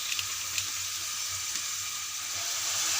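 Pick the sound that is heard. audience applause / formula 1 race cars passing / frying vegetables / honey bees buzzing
frying vegetables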